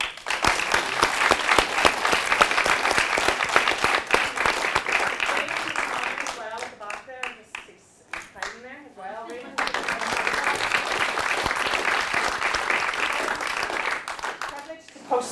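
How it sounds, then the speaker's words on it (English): An audience at a lunchtime garden event gives a big round of applause for a group of boys, dense clapping that fills most of the stretch, easing off briefly in the middle before resuming at full strength. "can we give the boys a really big round of applause?"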